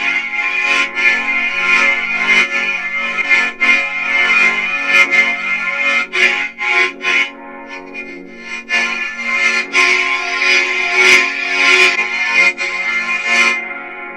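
Smooth lightsaber swings using the musical Tyrant Diamonds sound font by Cosmic Ape: a loud, distorted, tonal hum that swells and dips with each sweep, carrying a melodic theme, with sharp clashing accents scattered throughout.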